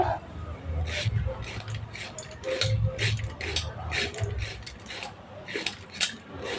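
A knife scrapes the skin off a washed bitter gourd in a series of quick, rasping strokes repeated at a steady pace, close and fairly loud.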